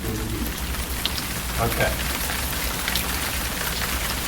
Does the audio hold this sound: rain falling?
yes